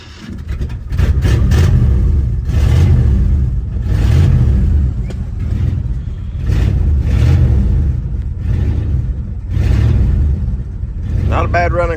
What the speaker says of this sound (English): Not a bad running car for it to be as old as it is.